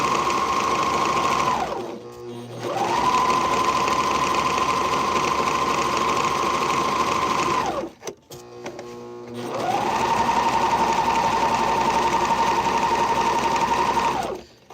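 A Bernina L890 sewing machine runs in three long, steady stretches of even motor whine, each stopping briefly before the next, close and clear, with no talking.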